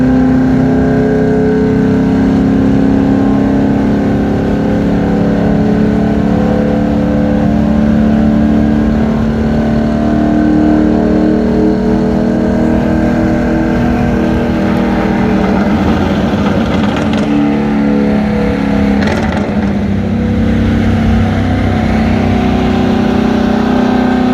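Pickup trucks lapping a race track, with a continuous, loud engine roar that stays dense and steady throughout, slightly swelling as vehicles pass, and no speech.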